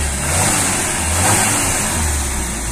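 A car engine revs after a transmission oil change done through the speedometer sensor opening: a close, loud, steady mid-pitched drone swells gently and then settles, with no talk over it.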